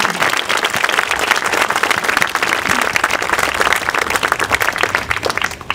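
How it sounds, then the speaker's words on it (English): Sustained applause from a graduation ceremony audience, dense steady clapping from many hands filling the room for several seconds without pause. "please join me in a round of applause to thank them for all of their hard work"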